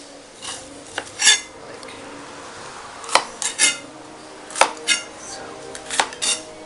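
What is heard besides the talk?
knife slicing vegetables into strips for stir fry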